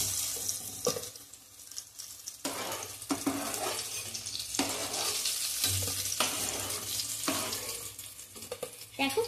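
Jackfruit seed cutlets frying in oil, a continuous close sizzle broken by stirring and scraping noises and a few knocks, moderately loud throughout, with no talking.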